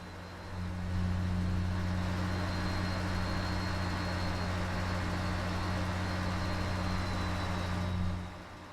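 A Mack B61 truck engine drones in a game setting, a low steady hum with a firm tonal rumble that rises after the first second, holds evenly while driving and drops off near the end.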